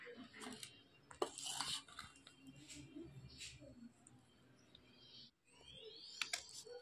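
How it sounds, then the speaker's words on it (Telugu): Maida batter for sweet ponganalu is mixed in a bowl, giving soft irregular clinks and scraping taps of a utensil, faint and close, with brief background voices. "మొత్తం మేము కలిపేసుకుందాం."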